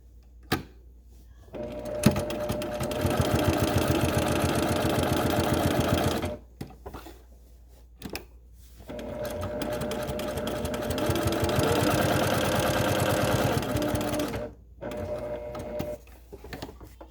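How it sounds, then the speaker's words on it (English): A sewing machine top-stitches around a fabric mask, running in two long, steady, close whirring stretches separated by brief pauses with small clicks and handling sounds. "now I'm going to finish top stitching around the rest of the mask."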